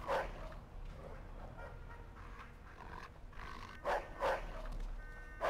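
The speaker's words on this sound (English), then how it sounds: "See the dog down there?" A dog barks below a street in the Mafia II video game. A few muffled yaps rise over steady in-game ambience near the end.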